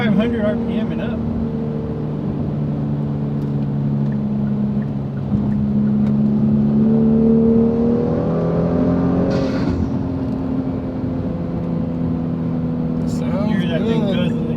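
A 2018 Kia Stinger GT fitted with a K&N cold air intake revs in third gear, a loud steady engine drone rising in pitch through the run, with a brief intake whoosh near the end.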